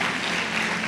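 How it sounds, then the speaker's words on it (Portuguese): A church congregation applauds together during a Sunday worship service, a dense, steady wash of clapping that fills the short moment without pause. "aplauda o Senhor em nome de Jesus"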